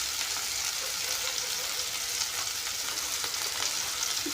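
Curry leaves sizzling in hot oil in a pan, a dense, continuous hiss and crackle heard close up, with no talking.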